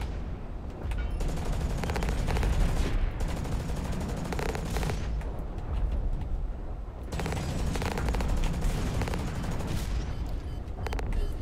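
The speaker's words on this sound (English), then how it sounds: "I hit you with my missile of doominess" Heavy, dense weapon fire and explosive booms roar continuously in the mech combat video game Hawken, with missile impacts blending into a loud, sustained barrage.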